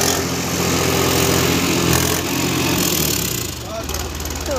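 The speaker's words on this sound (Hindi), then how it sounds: "पूरा ट्रैक्टर ऐसे फंस गया है" A tractor stuck in a muddy farm field runs its engine with a steady mid-pitched chugging drone, close and fairly loud, while people talk over it throughout.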